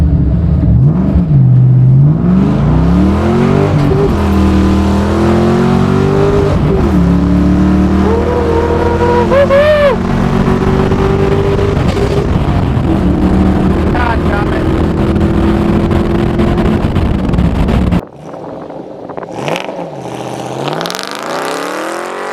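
A Lincoln Aviator fitted with a swapped-in Mustang GT V8 accelerates hard from a roll, its engine note climbing through the gears in loud, rising sweeps before dropping off sharply near the end, with some speech mixed in.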